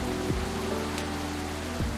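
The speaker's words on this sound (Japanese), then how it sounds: "本当だ、雨の音がちょっとちっちゃくなったね" Steady rain falls in the game Coffee Talk 2, a soft continuous hiss of drops with a low hum beneath and no voices.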